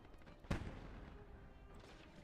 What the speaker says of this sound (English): Ah, mortars already.